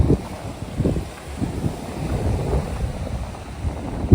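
Sea surf and gusting wind along a rocky shoreline outside a garden near a coastal fort, a steady low rumble of water with buffeting wind against the microphone, no voices.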